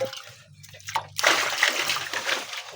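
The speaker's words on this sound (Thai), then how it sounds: "มาทำหน้าที่ตักน้ำล้างผัก" Water splashes and sloshes as it is scooped up to wash vegetables, starting with a few soft sounds, then a burst of louder splashing that carries on steadily, close by.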